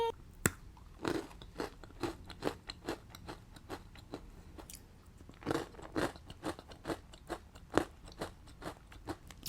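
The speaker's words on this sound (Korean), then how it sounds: "먹어보겠습니다. 오리지널부터. 오리지널 통밀." Someone bites into and chews a whole wheat protein ball up close, making firm, dry crunching bites followed by a run of uneven chewing crunches with short pauses between them, and no talking.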